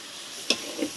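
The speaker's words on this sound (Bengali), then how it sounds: "কঠিন নাড়া দাও" Beef khichuri frying in a large pot is stirred, giving a soft sizzle under a sharp scrape at the midpoint and a second, quieter scrape just after, with no talking.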